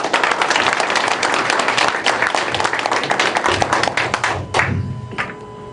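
A group claps to welcome a company president in a Korean setting, with brisk, close clapping and distinct hand strikes that stop abruptly near the end, leaving a quiet tail with some faint movement.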